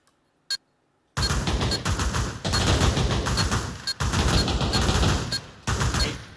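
Gunfire in the Pavlov VR video game, a competitive tournament match: one sharp isolated shot, then loud sustained bursts of automatic fire with rapid overlapping reports and brief pauses, very close.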